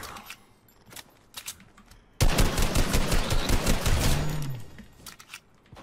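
Rapid assault rifle fire while hunting wildlife in Fortnite, a few scattered shots, then a sustained loud burst of automatic fire lasting several seconds before tapering off.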